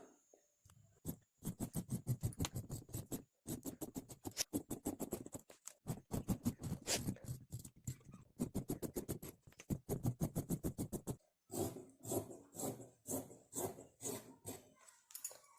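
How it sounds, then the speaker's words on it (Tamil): Blouse front fabric being cut by hand, heard as a close, steady run of crisp rhythmic snipping and scraping strokes with a few short pauses and no talk. "நாங்கள் இப்போ கட் பண்ணி எடுத்துடலாம்"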